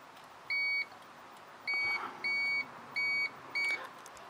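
Five short electronic beeps from a continuity tester checking a soldered engine and ignition coil cable on a Volvo S80, each a clear steady tone lasting a fraction of a second, with quiet room noise between them.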